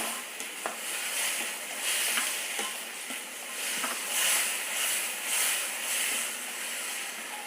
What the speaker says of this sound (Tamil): இப்போ இதில் கொஞ்சமாக மஞ்சள் பொடி, இந்த தக்காளி கொஞ்சம் வதங்கட்டும்.